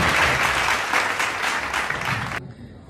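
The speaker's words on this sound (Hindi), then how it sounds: "मैं आपका जोरदार ताली से स्वागत करना चाहता हूँ" Dense, loud applause from an audience in the UP Urdu Academy Auditorium in Lucknow during a Dastan program, sustained clapping that cuts off abruptly near the end.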